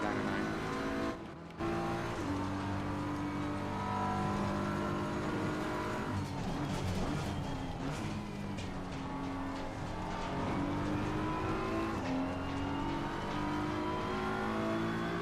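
A BMW race car in the Assetto Corsa Competizione game, running the Nordschleife 24-hour endurance race, climbs through revs and shifts gear repeatedly, with brief tire squeal along the way, at a moderate, fairly quiet level.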